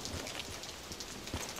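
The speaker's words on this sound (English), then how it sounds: "Oh! Raining." Steady rain falling in the video game Black Ops 3, a continuous hiss of drops on surfaces, fairly faint and without talk over it.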